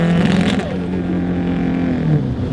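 800 horsepower Subaru STI engine breaking up under load, a loud, rough, sustained rev with a wavering, uneven tone close to the microphone.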